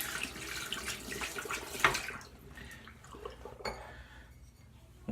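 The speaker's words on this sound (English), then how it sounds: "And rinse my hands off real quick." Tap water runs while hands are rinsed under it, a close, soft splashing stream with a brief clink near the middle, growing quieter and thinner toward the end.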